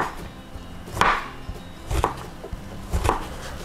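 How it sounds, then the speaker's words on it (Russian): Three separate knife chops slicing zucchini into thin strips on a cutting board, spaced about a second apart, fairly close and clear with no voices. "Тонкой соломкой нарезаю кабачок."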